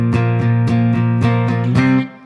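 Electric guitar plays the last two chorus bars of a song, about seven quick, evenly spaced strums over a steady ringing tone, close and loud, closing on a held chord that fades out.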